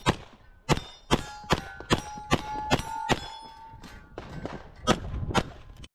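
Pistol shots in a competition shooting stage ring off steel targets: a rapid run of about a dozen sharp cracks, several followed by bright metallic clangs, fairly close and loud with no talking.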